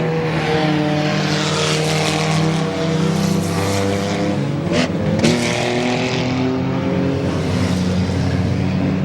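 Race cars roar around the track at a Goods Raceway enduro race, their engines loud and continuous, with cars surging past close by and overlapping.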